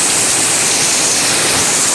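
Heavy rain pours in the mountains as a dense, steady, loud hiss of falling water with no break or voice.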